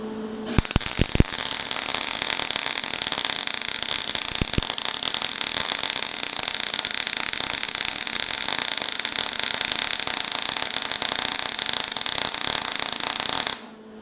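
Arc welding a filling bead over a pass on thick metal, a loud continuous crackling buzz that starts after a few sharp strikes and holds steady for about thirteen seconds before cutting off abruptly.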